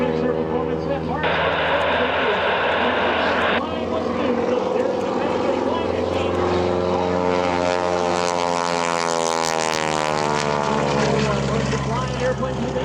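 A propeller stunt plane drones close by at an airshow, its engine pitch sweeping up and down as it maneuvers; a voice talks over it early, loudly.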